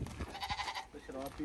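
Goats bleat in wavering calls at a livestock market in Malta ahead of Eid, fairly faint and mixed with people talking nearby.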